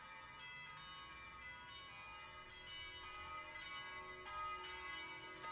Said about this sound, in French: Je suis désolé pour le bruit de cloche derrière